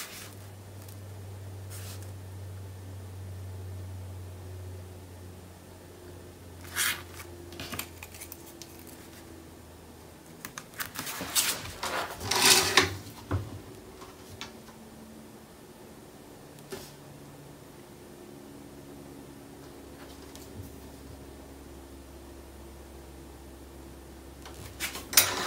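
Paper for a Graphic 45 nature notebook is trimmed down by hand. Scattered snips and crisp rustles come close up, with the busiest bursts of cutting and handling near the middle, set against a quiet room with a low hum.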